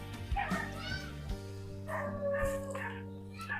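A dog barks and yips a few times in a mountain setting amid a background of talking and low hum, moderately close.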